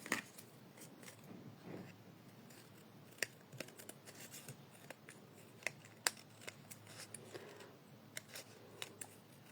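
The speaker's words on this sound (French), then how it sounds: "il suffit juste de retourner et de couper le surplus" Scissors snip away excess card paper while a folded flower easel card is made, giving soft, close crisp cuts and rustling paper handling at an irregular pace, quiet overall.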